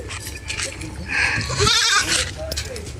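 A young goat kid gives a short bleat close by, with people talking around it in an outdoor rural setting.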